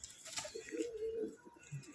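A standing male pigeon coos in a low, rolling phrase near by, with faint chirps and background bustle around it.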